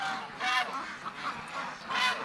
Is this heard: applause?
no